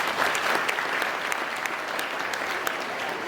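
Steady applause from an audience at a Karmaveer Jayanti public meeting, dense clapping sustained evenly throughout with no pauses.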